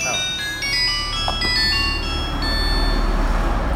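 A phone rings with a tinkling melodic ringtone in a busy, noisy secondhand phone shop, heard under steady background rumble.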